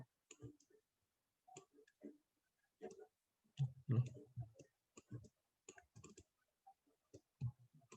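Computer mouse clicks on a design workstation, sharp isolated clicks scattered through quiet narration, with someone speaking between and over them at close range.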